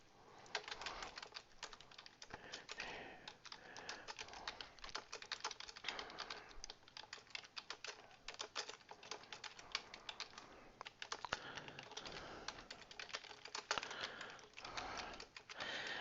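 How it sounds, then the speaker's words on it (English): Rapid typing on a computer keyboard, close and fairly quiet, dense irregular key clicks continuing steadily with no talking. "So we'll go in here and we'll begin typing."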